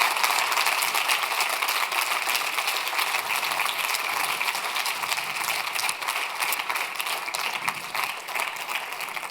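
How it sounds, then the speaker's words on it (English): A crowd applauds finalists at an awards event, sustained dense clapping that stays loud and even for several seconds, a broad continuous patter with no voices over it. "can we just give a round of applause, please, to all of the finalists"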